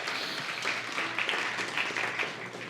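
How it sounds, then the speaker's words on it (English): An audience breaks into steady applause at a live event, a dense wash of many hands clapping at moderate volume for a few seconds with no break. "Yes, clap for yourselves in the mosaic of life."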